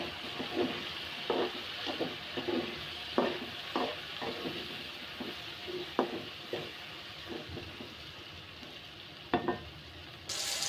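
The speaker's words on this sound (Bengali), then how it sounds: "পটলের সাথে 4টা মরিচও দিয়ে দেব, পটলের সাথে ভাজা হয়ে যাক" Pointed gourd and four chillies fry quietly in a kitchen pan, a soft sizzle broken by a steady run of stirring scrapes and clicks, with no voices.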